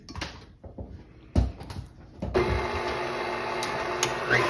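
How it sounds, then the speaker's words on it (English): Light clatter and knocks give way to a stand mixer fitted with a dough hook starting up, its motor whirring steadily as it churns olive oil in the bowl. "I have the dough hook in the mixer"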